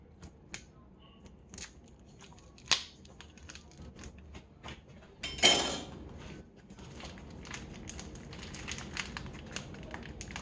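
Knife slicing hot dogs from the back end on a cutting board beside a warming griddle, soft scattered cuts and taps with one sharper crunch midway, fairly quiet and close.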